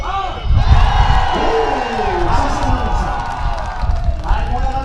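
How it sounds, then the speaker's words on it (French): Triathlon crowd roaring, cheering and shouting together in a loud sustained wave, with whoops rising over the din and a voice calling out near the start. "je veux vraiment un tonnerre d'applaudissements et des hurlements"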